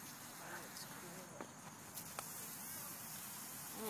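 A bumble bee buzzes faintly in a scuffle with a praying mantis, a thin insect drone under nearby voices talking outdoors.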